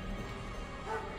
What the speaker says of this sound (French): Oh non, le chien!